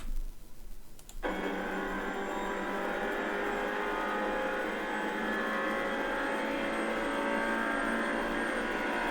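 A GT4 race car accelerates down the straight at Monza, the engine note rising into a sustained loud drone heard from inside the cockpit after a brief burst of noise at the start, with no talking.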